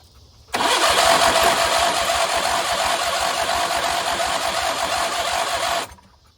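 A Craftsman riding mower engine cranks and catches, holding a loud, steady running roar for about five seconds before cutting off, with no talking over it.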